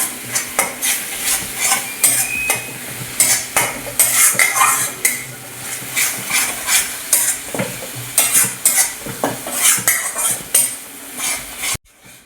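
Masala spices are sautéed on a medium flame for a cashew mutton curry, with a loud steady sizzle and rapid, irregular clanks and scrapes of a metal spoon against the pot that go on almost without pause.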